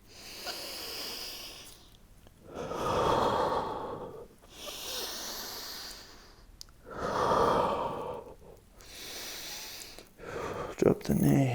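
Slow, deep yoga breaths during a floor stretch, several long audible inhales and sighing exhales alternating with brief quiet gaps, close and fairly soft.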